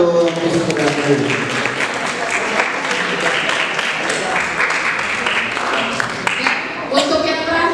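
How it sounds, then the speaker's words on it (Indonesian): Applause at a school alumni reunion in Jakarta, a dense wash of many hands clapping, loud and continuous for several seconds, with crowd voices mixed in and a brief lull near the end. "Tepuk tangan untuk Wisnu dan Bayu."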